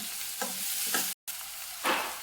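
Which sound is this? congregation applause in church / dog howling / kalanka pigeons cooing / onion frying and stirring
onion frying and stirring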